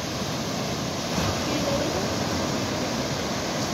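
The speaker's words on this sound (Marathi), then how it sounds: "केवढ्या लाटा निघत आहेत।" Sea waves breaking on the beach at Shrivardhan, a continuous broad roar of surf that swells slightly midway and stays steady and fairly close, with no voices.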